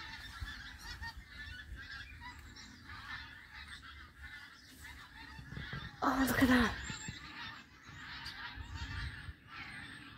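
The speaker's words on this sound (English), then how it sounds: "Hear the geese." A flock of geese flying in formation honks faintly in the distance, with a louder rush of noise midway and a person speaking briefly.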